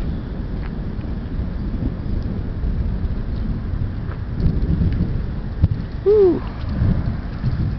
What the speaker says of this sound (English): We're watching the thunderstorm.